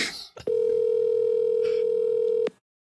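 A single steady telephone ringback tone sounds for about two seconds during an outgoing call, loud and close, following a brief burst of voices at the start and then cutting off into silence.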